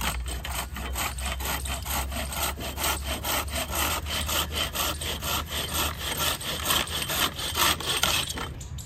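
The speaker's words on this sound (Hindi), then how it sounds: "अभी हम ये लकड़ी को जो है ना आरी की हेल्प से काटने लगे हैं" A hand saw cuts through a length of wood, rasping back and forth in a steady, evenly paced run of strokes that holds close and loud throughout, with no voices over it.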